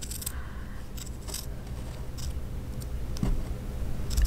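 Scissors trimming yarn tufts of a turkey stitch, a few quiet close snips over a soft steady background hiss.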